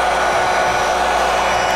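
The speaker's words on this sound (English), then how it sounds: "my wife's hair dryer comes in handy" A hair dryer blows in a steady, loud, unbroken whoosh, close by and alone, used as a tool while restoring a Galaga arcade control panel.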